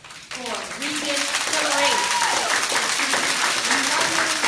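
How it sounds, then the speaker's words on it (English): A live keynote audience at a motivational mastermind event breaks into loud, sustained applause and cheering that swells and fills the room, with voices calling out over the clapping. "Please give a roaring, pick up your clappers, round of applause for Regan"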